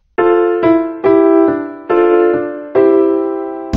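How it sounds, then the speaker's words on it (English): Piano notes from a Disney Mickey Mouse video game, playing a short phrase of five sustained tones that strike about every half to one second, each decaying slowly, loud and alone with no talk. "A piano sounds like this."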